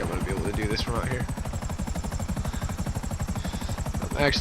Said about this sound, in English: I'm gonna fly the helicopter into here